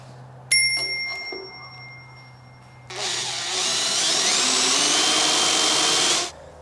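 A drill bores a hole through a steel chassis plate on a GQ ute build, a steady loud whine running about three seconds after a short metallic ring and a few clanks.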